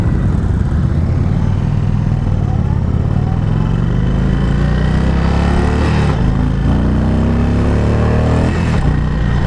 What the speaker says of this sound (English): Okay, that was wide open throttle.